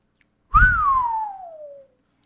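A single loud, close whistle from a person sweeps sharply up and then glides slowly down in pitch over about a second and a half, alone with no talk.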